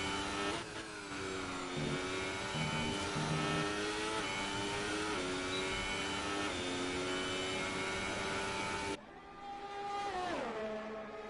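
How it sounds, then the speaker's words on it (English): F2 race car engines in a racing video game whine at high pitch at Monza's Italian Grand Prix circuit, shifting and overlapping as they pass by, then a brief drop and another engine rising again. "You can literally hear the cars coming from any corner you want."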